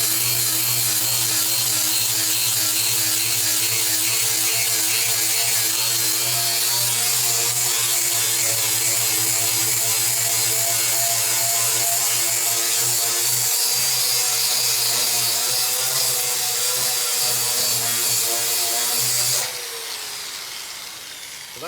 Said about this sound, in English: Just have to smooth it over and make sure that all of the scratches that are made from a coarser grit than this 80 are gone